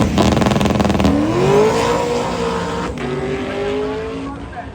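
A race car tears down the track at a summer racing event, its engine roaring loud and close, the pitch climbing steadily as it accelerates through the run.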